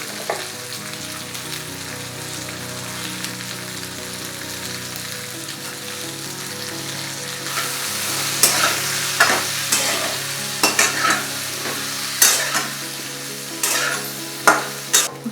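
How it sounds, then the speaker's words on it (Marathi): Okra pieces fry in oil while turmeric and salt get stirred through for dhaba-style dahi bhindi. A steady close sizzle runs under repeated scraping stirs that grow louder and more frequent in the second half, with no talking. "चांगली तेलामध्ये फ्राय करून घेऊ. नंतर 1 चमचा हळद व 1 चमचा मीठ टाकून घेऊ. ते चांगले मिक्स करून घेऊ."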